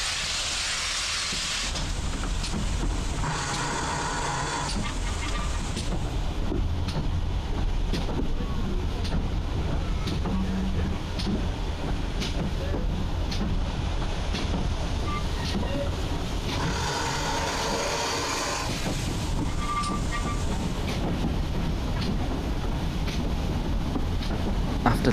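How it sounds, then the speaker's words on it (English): A heritage steam train on the South Devon Railway pulls away from Buckfastleigh toward Totnes and keeps running, a steady rumble with bursts of hissing steam and wind buffeting the microphone. "Soon enough it was time for the train to depart to Totnes."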